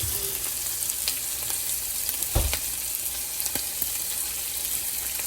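Pieces of dove meat fry in a hot pan over medium-high heat, giving a steady close sizzle, with a few louder pops and a brief scrape or clunk near the middle.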